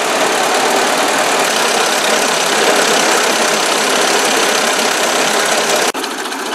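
A 1957 Ford 800 tractor engine with a freshly repaired exhaust and a retuned carburetor idles in a steady, close, loud chug, with a brief dip near the end.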